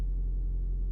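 A video game car engine is started and left running: a steady, low idling rumble, alone and without talk, for about a second.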